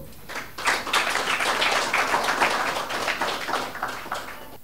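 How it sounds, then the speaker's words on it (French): An audience claps at a ministry launch ceremony for a housing loan guarantee, a burst of applause that starts sharply, holds steady and slowly thins out toward the end. "Sous vos applaudissements."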